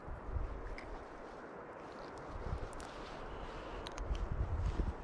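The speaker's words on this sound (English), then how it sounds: "That wind is starting to pick up." Steady wind gusts buffeting an outdoor stream bank while fishing for cutthroat trout in the Black Hills, a continuous low rumble with swelling surges and no talk.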